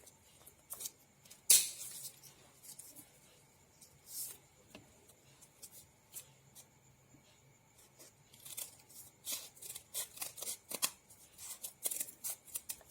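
Scissors snipping paper into square shapes for a cash-register collage: quiet, scattered cuts and paper rustles, a sharper snip early on and a denser run of small cuts toward the end.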